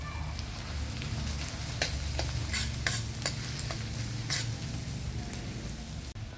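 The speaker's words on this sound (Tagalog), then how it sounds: "Saute the garlic. And add the onion." Garlic and onion sauté in a pan with a steady hiss of frying, broken by scattered pops and crackles, close and moderately loud.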